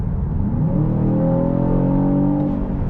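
Aston Martin DBX S high-performance SUV engine running steadily under load, a loud, close, continuous drone with rising harmonics, holding through a paddle-shift gear change without any clear break.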